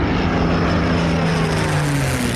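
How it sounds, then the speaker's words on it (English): A Rolls-Royce Merlin aircraft engine runs loud and close, a continuous deep, throaty propeller-engine roar with a slight downward drift in pitch over a couple of seconds. "It was the Rolls-Royce Merlin engine."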